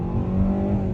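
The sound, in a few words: car launching and accelerating, engine revving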